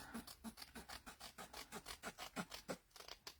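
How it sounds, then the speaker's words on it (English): A paper trimmer blade drawn along paper for a craft folio, a rapid even series of about fifteen scratchy rasping strokes, close but faint, no talking. "We're going to give that a trim right along here."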